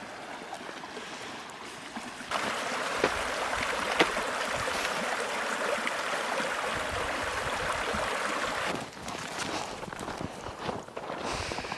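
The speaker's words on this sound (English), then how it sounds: "Kind of a lot of water moving through here" A creek runs high near a beaver dam, a steady broadband rush of flowing water that persists throughout, with footsteps crunching close by on the bank.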